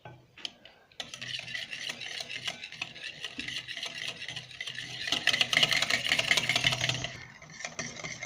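Oil being whisked into mayonnaise in a bowl, a steady scraping, rasping stir that builds after a brief pause and keeps a continuous rhythm, close and moderately loud with no talking.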